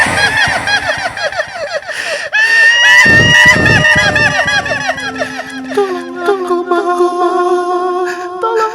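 A man's loud, wavering scream of fear rises and falls, mixed with shrill cackling and laughing voices, all close and intense.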